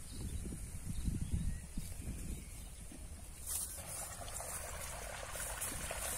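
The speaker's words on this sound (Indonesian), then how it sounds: "Ini pengairan yang saya ambil dari sungai" Irrigation water drawn from a river trickles and pours into a rice paddy, a soft continuous flow with a few louder splashy bursts early on. It stays fairly faint, with wind-like noise outdoors and no talking.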